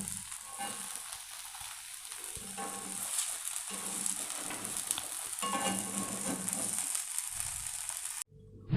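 Ragi rava dosa, a finger millet and semolina crepe, sizzles in oil on a pan over medium heat, giving a steady close hiss for about eight seconds that cuts off abruptly.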